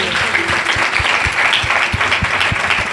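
A church congregation at a Sunday service in Lahore claps for the preacher after his sermon, a dense wash of applause with some individual claps standing out close by.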